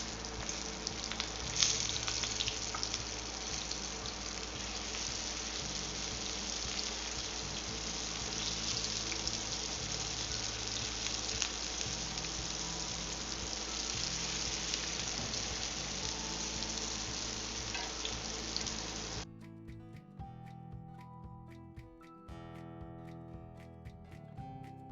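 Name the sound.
deep frying Korean seaweed rice paper rolls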